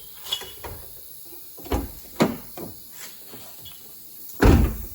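The door of a Honda Civic is handled and shut in a garage body shop, with a few light clicks and knocks followed by a firm, thudding close at the end.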